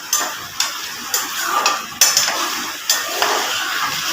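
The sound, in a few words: potatoes being fried for aloo bhujia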